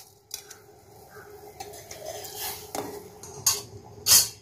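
Raw rice is poured into a pot of boiling water on the stove for sweet pongal, with a scattered rush of grains, a hiss and several sharp metallic clinks of a spoon against the pot.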